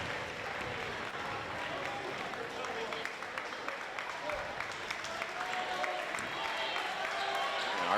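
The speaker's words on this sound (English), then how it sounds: "Arcudi and Tamani getting a big hand now from the crowd as they head to the bench" Crowd applauding at a high school basketball game between Milford and Tantasqua as two players head to the bench, steady clapping and cheering filling the gym for several seconds under a commentator's voice.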